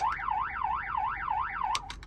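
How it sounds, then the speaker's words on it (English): An electronic car alarm sound from a PA system on a Honda Element warbles rapidly up and down in a fast repeating cycle, loud and close, cutting off into a few short bursts. "Just sounds like a car alarm."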